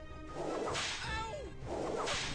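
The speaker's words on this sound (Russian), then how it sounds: "вначале удар молнии" A lightning strike attack in the video game Pocket Mortys: two quick crackling whooshes with a bright electric zap between them, loud and close, with no speech.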